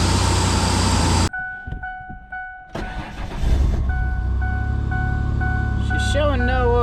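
A vehicle engine that runs but stalls when given throttle. It starts as a loud, close rumble, cuts out abruptly, sputters, then settles back into a steady running drone with a faint tonal whine.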